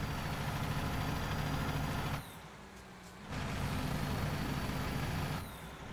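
Steady low diesel rumble of a truck engine idling in American Truck Simulator, loud and continuous, dipping briefly in the middle before returning, with no talk over it.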